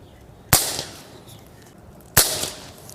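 Two sharp, cracking shots from an Artemis PR900W air rifle charged to 150 bar, spaced well apart, each a sudden loud snap with a short tail against quiet background.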